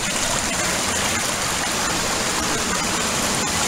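Steady, dense rush of creek water flowing near a waterfall, loud and unbroken from start to finish with no voices.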